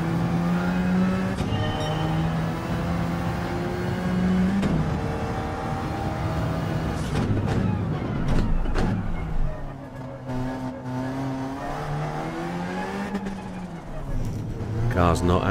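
Engine drone of a race car sliding through a corner in Gran Turismo 7 on the Eiger Nordwand circuit, a steady tonal roar that shifts pitch as it drifts, heard under continuous talk.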